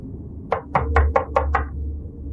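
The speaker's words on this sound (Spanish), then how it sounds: "La verdadera amenaza vino en forma de un golpe en mi puerta." Six firm knocks on a wooden apartment door, evenly spaced and close, each a crisp hollow rap over a low background hum.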